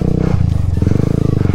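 A motorcycle rides along a cold, slippery winter road, its engine drone steady and close with a low rumbling pulse and some rattling clatter throughout.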